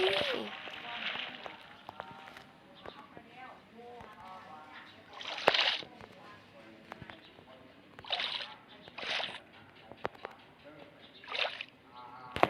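Splashes into the sea in Minecraft, several short bursts of water spaced apart, with a person talking throughout over the game sounds.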